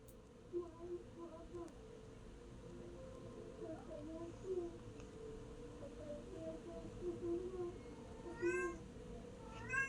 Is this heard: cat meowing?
yes